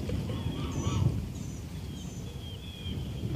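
Soft honking calls from a duck near water, several short nasal notes scattered over a low outdoor rumble, moderately close and fairly quiet, with no talking.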